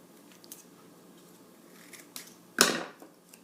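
Excess paracord on a wrist survival bracelet is trimmed with a knife blade: faint scraping and handling lead up to one loud, close, crunchy cut near the end, with no talking.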